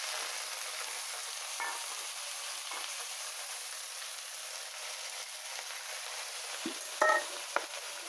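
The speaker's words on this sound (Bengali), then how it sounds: "এখন এই যে শাক দিলাম," Leafy greens hiss and sizzle steadily in a hot pan with spices and a bay leaf, a continuous frying noise broken by a few brief clinks and scrapes near the end.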